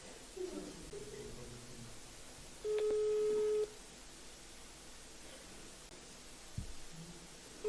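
A single steady telephone ringing tone sounds for about a second over a hiss of line static, then the line goes quiet again.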